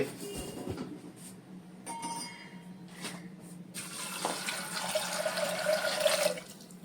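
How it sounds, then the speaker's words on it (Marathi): Water runs and splashes into a pot of chickpeas, starting with scattered pours and building to a steady, louder stream close by, with no talking. "बुडायला हवी पाहिजे एवढा एवढं पाणी घातलंय त्याच हरभऱ्यामध्ये"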